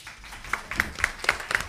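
Applause from an audience welcoming a delegation at a public session, heard as a short burst of separate sharp claps close by, spaced in a loose rhythm rather than a dense crowd roar.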